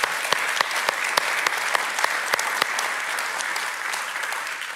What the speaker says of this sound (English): A round of applause once again for our keynote speakers.